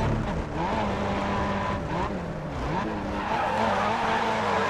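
A race car drifting in Grid Autosport, engine revving and shifting pitch as tires skid and squeal continuously through a long sideways slide, loud and close.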